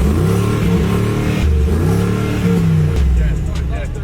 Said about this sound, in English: next we got a Brabus G-Wagon